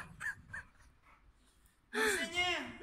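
A dog whimpers softly a few times, then lets out a louder, drawn-out whining yelp close to the microphone, with a person's voice mixed in.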